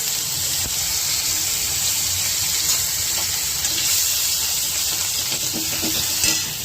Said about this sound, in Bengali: এবার তেলে দিচ্ছি 5 ফোড়ন, দিচ্ছি একটু আদা